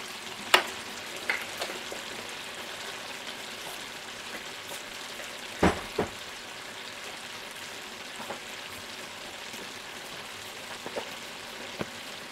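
Meat cooking for homemade soup, a soft steady sizzle and bubbling with a few sharp clinks of utensils, quiet and close without talk.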